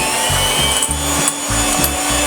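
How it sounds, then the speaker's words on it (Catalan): Eggs and sugar for a sponge cake batter are whisked hard and fast, making a loud, continuous rhythmic scraping and rubbing with regular strokes close by. "I seguirem remenant fins que quedi a punt de neu."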